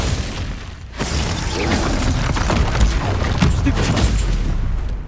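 Spell blasts and explosions in the Hogwarts Legacy video game, a dense, continuous barrage of booms, crashes and shattering impacts that stays loud for the whole stretch.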